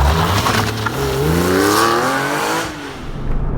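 Porsche 996 GT3 Mark 1 (Series 1, comfort spec) flat-six revving hard nearby, a loud continuous engine roar with rising and falling pitch that eases off near the end.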